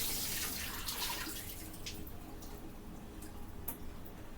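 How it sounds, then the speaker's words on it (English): Cooked shrimp drained in a kitchen sink while water runs, a steady broadband splashing hiss that is loudest at the start and eases slightly, with a few faint clicks and no talking. "Real quick, I'm going to drain this shrimp."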